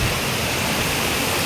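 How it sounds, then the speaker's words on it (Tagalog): Rushing water of a mountain stream tumbling over large boulders at a resort in Paluan, Occidental Mindoro, a steady, dense roar close by with no break. "Rinig mo yung mga daluyong ng tubig"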